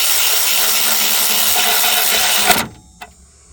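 A cheap cordless power tool, very torquey for its size, whines loudly and steadily while removing transmission bolts on a 2011 Ford F-250 6.7, then cuts off abruptly, followed by a brief click and quiet.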